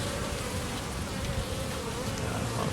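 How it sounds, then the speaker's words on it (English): Honey bees swarm around a hive entrance in early-year beekeeping, a dense, constant buzzing hum that fills the scene at close range without pause, with no talk. "There's another bee out there working on that one."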